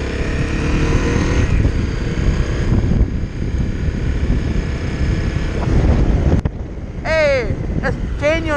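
Heavy, steady wind buffeting the microphone while riding a motorcycle on a road, a loud broadband roar that dips briefly mid-ride, with a few high whistling tones near the end.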